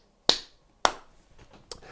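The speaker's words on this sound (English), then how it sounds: "So I might go from saying ta, ta, ta, ta to then clapping that rhythm." Hands clapping a simple steady rhythm: three sharp, close claps at an even spacing against near silence.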